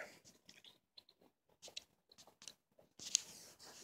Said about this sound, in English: So if you can hear my chewing